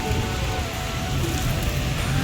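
Heavy rain falls steadily in Kashmir, a dense continuous hiss of drops on surfaces that stays loud and even throughout with no voices.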